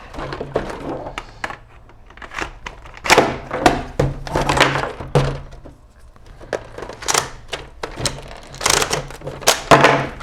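Sharp plastic clicks and clacks come from a magazine being pushed and seated into an XSHOT Regenerator toy blaster, a dozen or so irregular knocks spread across the stretch, close and fairly loud.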